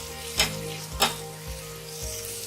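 Chopped tomato fries with spices for chana dal, a constant close sizzle punctuated by two loud stirring scrapes and softer spoon taps, with no voices.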